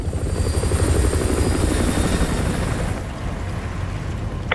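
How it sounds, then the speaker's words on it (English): A helicopter in Call of Duty Modern Warfare 2 Remastered thunders steadily overhead with loud, continuous rotor chop, easing slightly in the last seconds. "Chopper inbound, keep low."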